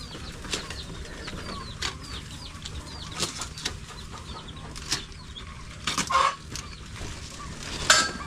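Native chickens cluck and chatter softly around a rural yard, with scattered short calls, occasional wing flaps and a louder squawk near the end over a steady outdoor background.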